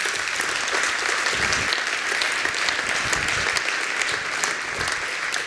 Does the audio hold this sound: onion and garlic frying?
no